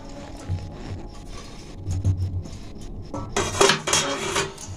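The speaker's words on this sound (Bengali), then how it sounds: "এবার এই যে কপিটা জল ঝরিয়ে রেখেছিলাম, সেই কপিগুলো এই ব্যাটারের মধ্যে দিয়ে দেব" Cauliflower pieces dropped into a bowl of batter, giving a few soft thuds and clinks of utensils against the bowl, growing into a busier clatter near the end, with no talk.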